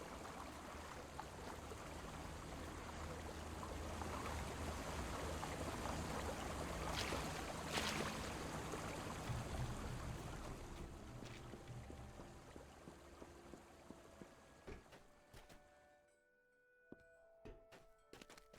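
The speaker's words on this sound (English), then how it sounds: "As you open the valve, the muffled sound of gears turning can be heard from the water below." Muffled gears turning beneath water after a valve is opened in the DDO video game, a steady watery churning rumble with faint knocks that gradually fades to near silence, followed by sparse soft clicks.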